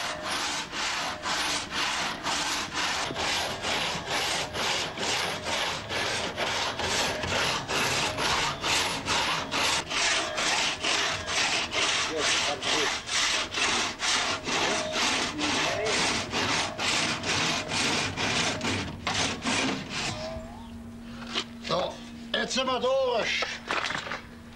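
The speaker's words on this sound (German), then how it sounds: "Ist das Krummholz tief genug angesägt, wechselt man zur großen Zugschrotsäge über." A large two-man crosscut pull saw cuts through a thick piece of curved wood in rapid, even back-and-forth rasping strokes, loud and close, continuing for many seconds before stopping, with speech breaking in near the end.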